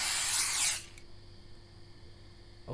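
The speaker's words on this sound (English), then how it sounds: "rat spray" A can of rat spray is discharged in a Japanese horror video game set in a convenience store at night: one loud, close hissing burst lasting under a second, then quiet room tone with a faint click at the end.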